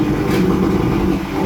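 A 1979 Evinrude 100hp V4 two-stroke outboard running at around 1500 RPM, a steady close low droning hum with a buzzing rumble, loud and unbroken for the short stretch.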